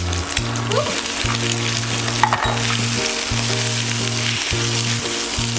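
Rice sizzles and crackles steadily in a hot pan with cooked egg while making bacon fried rice, close by, with background music pulsing underneath.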